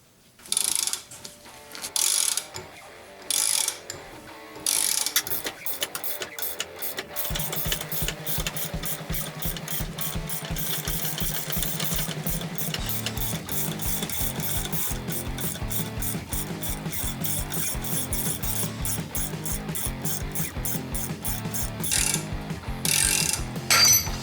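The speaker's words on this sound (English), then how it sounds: "we can go ahead and put a ratchet on here now, and then yank that inner race off" A ratchet wrench on a Beta 1535/C4 bearing splitter and puller kit pulls an inner bearing race off a hub: a few short bursts of clicking, then a long, loud, rapid run of ratchet clicks, and more bursts at the end.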